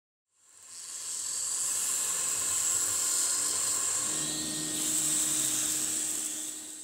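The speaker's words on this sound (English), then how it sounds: "having a CNC mill to cut panel holes is nice" A CNC mill cutting panel holes gives a steady high-pitched machine whine with hissing, continuous for several seconds with a lower tone joining near the end.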